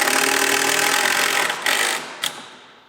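A power tool drives screws into a storage unit, its close whirring motor running steadily, then cutting out with a couple of short bursts before fading.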